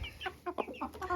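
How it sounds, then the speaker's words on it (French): Belgian gold partridge hen clucking in a breeding pen, a quick run of soft, close clucks and short chatter over about a second with light background noise. "Ma poule perdrix doré belge"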